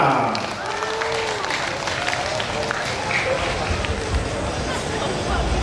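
Audience applause at a Sabah traditional and creative dance festival for schools, a steady wash of clapping and crowd hubbub lasting throughout, loud and close.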